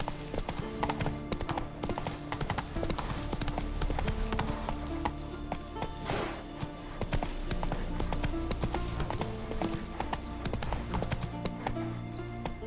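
Roach the horse gallops in The Witcher 3, hooves pounding a fast, steady clip-clop rhythm close by with a brief whinny partway through, and no talk over it.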